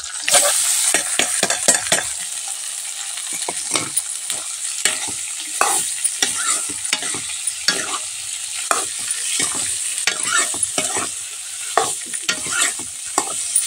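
Potatoes sizzle steadily in hot oil while a utensil scrapes and stirs the pan in irregular strokes, close and clear, with no talking.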